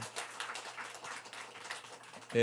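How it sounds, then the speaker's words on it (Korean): A church congregation at a Sunday morning service claps for a choir member, a soft, steady patter of many hands heard from a distance for a couple of seconds. "우리 주일북화요 박수 한번 쳐주세요"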